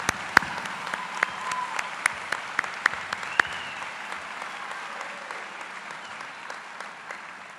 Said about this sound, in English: Please join me in a round of applause in recognition of their many accomplishments